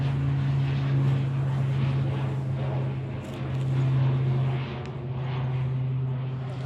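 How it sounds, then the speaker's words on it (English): A fixed-wing propeller plane circles over a ridge while dropping smoke jumpers, its steady engine drone loud and continuous throughout, with a low tonal hum that swells and eases slightly as it passes. "that plane circles over that ridge, it's dropping smoke jumpers, firefighters, parachuters."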